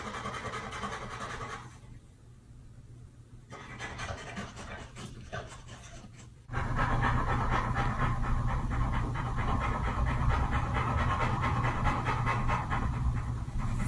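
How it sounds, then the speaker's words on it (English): A dog that cannot relax panting rapidly and steadily, close by, with rustling and scratching around it, a brief quieter stretch, then louder continuous breathing noise. "It's a dog unable to relax"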